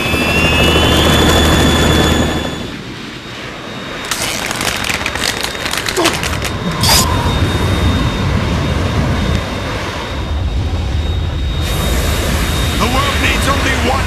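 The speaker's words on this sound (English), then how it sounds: "That's the Harrier." Harrier jet engine roaring in Metal Gear Solid 2, a loud sustained rumble that briefly dips, then surges back to full strength.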